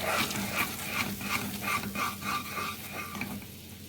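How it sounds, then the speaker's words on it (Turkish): Flour is stirred and roasted in hot oil in a pan to start a béchamel sauce, with a spoon scraping in a steady rhythm over a soft, constant sizzle, close and moderately loud. "1 yemek kaşığı unumu ilave ediyorum. Unun kokusu çıkana kadar kavuruyorum."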